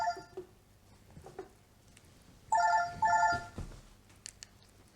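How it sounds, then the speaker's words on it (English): A mobile phone rings during a cross stitch chat, giving two loud bursts of bright electronic ringtone tones in the middle of the clip over quiet room noise, with brief rustles before and after. "sorry about that, that was my phone"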